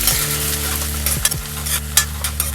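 Chopped onion with methi seeds sizzles in hot oil, stirred with a spoon in several quick scraping strokes over a steady close frying hiss, no talking.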